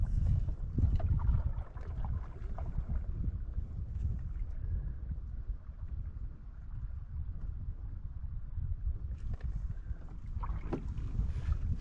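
Strong tailwind gusts over a canoe on Isaac Lake, a steady, loud rushing roar with low buffeting against the microphone and faint water and hull sounds beneath, no voices.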